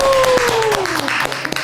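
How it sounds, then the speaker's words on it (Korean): A small group claps briskly in a church youth-group setting, with sharp hand claps under a sliding whistle-like tone and some voices over the clapping. "박수!"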